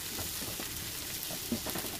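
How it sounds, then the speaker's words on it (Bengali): Aubergine frying in a pan for a Bengali kalmi shaak and bori chorchori, a steady close sizzle with faint crackle, no voices. "বেগুনটা মোটামুটি ভাজা একটু হয়ে গেছে"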